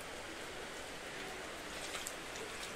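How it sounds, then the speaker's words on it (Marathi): Rain falling in the Konkan countryside, a faint, steady hiss of drops with a few light patters, continuous and fairly distant. "पाऊस पडतोय."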